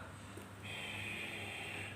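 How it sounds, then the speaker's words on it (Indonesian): A person snores deliberately as loud as possible as a breathing practice exercise, one long rasping snore held steady and fairly loud after a short breathy start, close up and alone. "Diusahakan bagi pemula itu ngorok yang sekeras mungkin ya"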